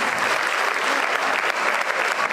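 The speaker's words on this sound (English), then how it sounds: "Can we have a round of applause?" Dense, steady applause from a school audience honoring two long-serving teachers, Ponraj sir and Mary ma'am, at their farewell day, loud and sustained without a break for the whole moment.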